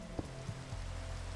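Minecraft rain patters as a steady broadband hiss that fills the short stretch, with a few faint soft taps near the start.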